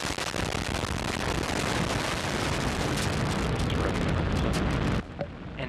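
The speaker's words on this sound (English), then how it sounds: "Got liftoff of the Antares NG-19 launch vehicle from the Northrop facility." Antares NG-19 rocket lifting off from the Northrop Grumman launch facility, a loud, steady broadband roar that stays intense for about five seconds before cutting away abruptly.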